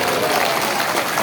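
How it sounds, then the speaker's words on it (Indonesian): A large audience at an outdoor religious gathering of online drivers in North Sumatra breaks into a short, dense burst of clapping, loud and close, with possible faint voices underneath. "Kau jangan tepuk tangannya laki-laki."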